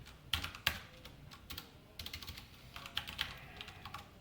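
Quiet, close computer keyboard typing while C code is entered, with irregular bursts of key clicks and brief pauses and no voice over it.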